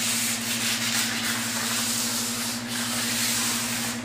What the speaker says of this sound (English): when you're wet sanding, you can use a more aggressive grit and still get a very smooth surface